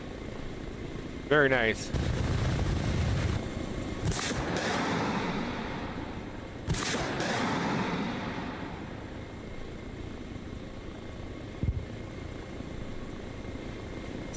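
A helicopter in the Arma Reforger video game launches missiles from its nose, and several loud whooshing blasts burst over a steady rotor drone while someone speaks briefly.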